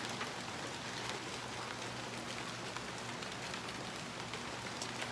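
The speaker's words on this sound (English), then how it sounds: "But they're raindrops, not hail." Big raindrops falling on a surface outdoors, a dense, steady patter of many close impacts with no voices, soft overall.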